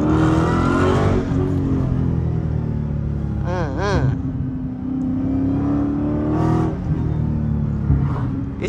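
Dodge Demon with an 8-speed transmission running loud and close, engine note rising and falling through gear changes with a few sharp exhaust pops on the downshift.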